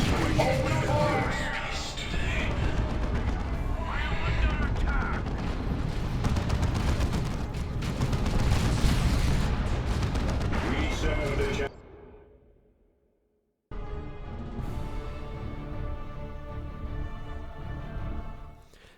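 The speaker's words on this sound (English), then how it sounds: "All guns, open fire." All guns opening fire in Dawn of War 2: Retribution: sustained loud massed gunfire and artillery booms crowd a thick battle din, cut by a brief silence before the barrage resumes.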